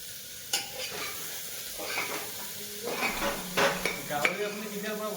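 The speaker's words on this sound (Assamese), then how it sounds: "পূৰা এই চাইনিজ ষ্টাইলত লাৰি আছে এতিয়া" Pork with bamboo shoot is stirred in a sizzling pan, Chinese style, the spatula scraping and clattering in uneven strokes over a steady frying hiss, close up.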